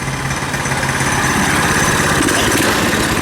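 A KT196 go-kart's small engine runs steadily after a carburetor replacement, with the choke off, a loud, close, continuous buzzing idle that holds without breaks for the whole stretch.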